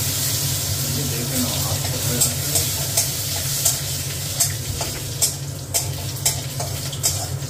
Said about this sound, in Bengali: গোটা গোলমরিচ, গোটা গরম মশলা একটু থেতো করে তেজপাতা তেলের মধ্যে দিয়ে দিলাম।